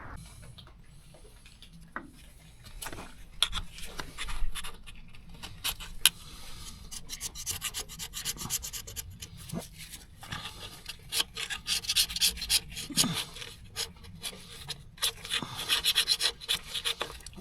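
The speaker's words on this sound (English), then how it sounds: "carbide scrapers for the win" Carbide scrapers rasp and scrape a rusted, broken gasket off a cracked flange on a vintage cabover truck, giving irregular gritty strokes with clicks and knocks, close and moderately loud throughout.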